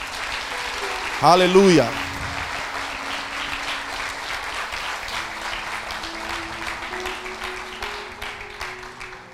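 Church congregation applauding during a sermon, a brief burst of clapping with a short sung or shouted exclamation over it, then a steady wash of crowd noise and scattered clapping carrying on under murmuring voices.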